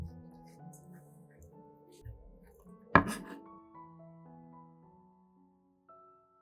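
A knife makes a single crisp, firm cut through a pineapple slice, loud and close, amid quiet background music.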